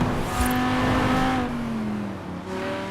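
Car engine revving in Forza Horizon 4, a loud sustained engine note that rises and then slides down as the car pulls away, with a brief lighter second tone near the end and no talk.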